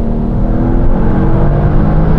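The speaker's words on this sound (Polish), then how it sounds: "jak już złapie obroty, jak jest tam około 3000 obrotów, zaczyna gadać, słychać już turbinka nabija." An Audi TT RS turbo accelerates hard at full throttle from inside the car, its engine roaring loud and continuous with rising pitch and a strong low rumble throughout.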